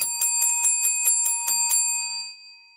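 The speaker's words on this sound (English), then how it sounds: "I got to ring the bell" A bright metallic bell rings in a quick series of about nine strikes, its clear tone lingering and fading out at the end.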